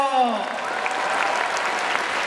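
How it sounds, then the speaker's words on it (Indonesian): Audience at a university student orientation event breaks into sustained applause, broad and even clapping from a large crowd, with a brief trailing voice at the very start. "Tepuk tangan lagi yang lebih ikhlas ayo."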